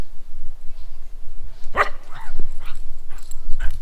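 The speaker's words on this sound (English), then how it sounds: "Here's the dog." A dog barks a few times nearby at a countryside home outside Riga, Latvia, with one loud bark followed by softer yips and whines.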